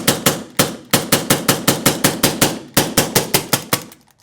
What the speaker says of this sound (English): I'm going to shoot this out real quick.